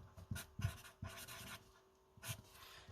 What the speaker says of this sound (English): I'm going to write magnitude